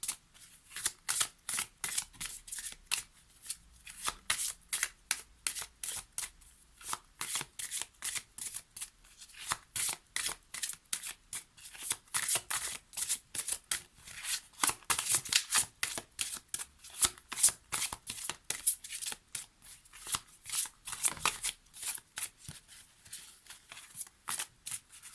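A deck of Angels of Love oracle cards is shuffled over and over, giving steady rhythmic riffling and flicking bursts, close up and fairly soft, with no voices.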